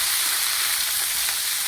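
A fish head fries with masoor lentils in a pan, making a loud, dense, steady sizzle close up with no pauses.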